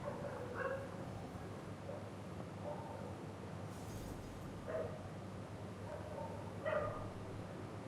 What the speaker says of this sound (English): Sorry about the dogs in the background.